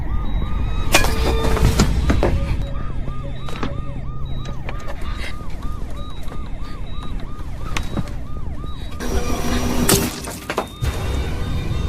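An ambulance siren wails in a steady, repeating up-and-down pattern through the middle of the scene, loud and fairly close, amid other busy background noise and a few sharp impacts.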